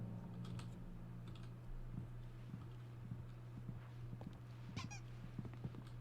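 Quiet, irregular clacks of typewriter keys in a video game, scattered taps over a low steady hum.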